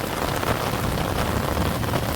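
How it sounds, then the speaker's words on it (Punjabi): A brief stretch of steady, loud rain from the first Sawan monsoon downpour, an unbroken hiss and patter of drops hitting nearby surfaces. "ਤੁਹਾਨੂੰ ਮੀਂਹ ਦਿਖਾ ਕੇ ਲਿਆਵਾਂ ਕਿੰਨਾ ਕੁ ਮੀਂਹ ਪੈ ਰਿਹਾ"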